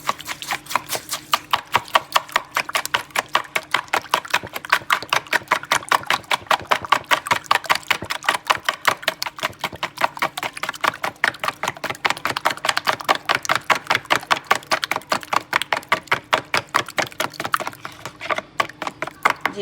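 Eggs and sugar, five eggs with seven tablespoons of sugar, whisked together for egg halwa, a fast, steady rhythmic beating that repeats evenly throughout, close and moderately loud with no talking.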